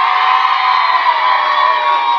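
Colombian stand-up comedy audience cheering, shouting and whistling in a steady, loud crowd roar that holds for the whole moment without a break.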